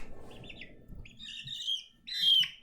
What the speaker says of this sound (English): Don't worry, that bird has not been hurt in any way.